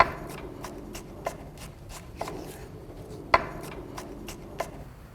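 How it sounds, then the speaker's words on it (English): Knife cutting a poblano pepper into chunks on a cutting board, a handful of sharp, fairly quiet chops spaced irregularly over a faint room background. "Today I'm going to add a poblano pepper to that. Cut the shapes appropriately."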